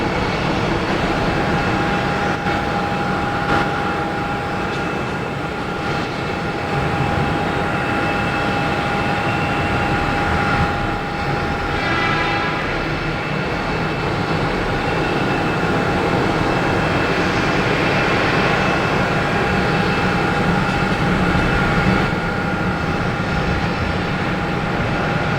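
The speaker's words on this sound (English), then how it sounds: "JetBlue 300 coming in from Louis Armstrong International Airport, New Orleans." A JetBlue Airbus A320 arrives at Boston Logan from New Orleans with continuous jet engine roar and a steady whining tone above it, loud and sustained with no talk.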